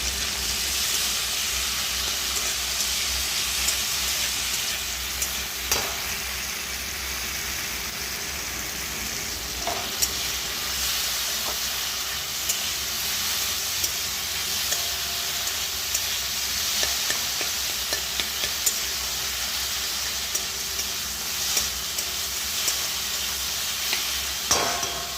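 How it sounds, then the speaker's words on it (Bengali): Pumpkin chhechki frying in a pan gives a steady, even hiss of sizzling throughout, with small scrapes and taps as it is stirred, close up and with no voices. "নরম হয়ে গেছে, আর একটু নেড়ে নিই।"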